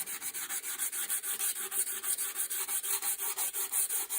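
Sandpaper backed by a flat former rubbed back and forth over a wooden gunstock, a close, steady rasping stroke repeating about five times a second with no talk.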